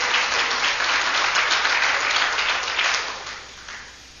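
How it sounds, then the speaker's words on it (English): A church congregation claps hands during a revival service, a thick wash of steady clapping that swells, then fades out over the final second. "And give him a hand clap."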